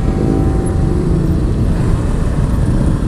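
Dense road traffic on a busy city street, a continuous loud rumble of cars, trucks and motorcycles heard from inside a vehicle for a few seconds, with no talk.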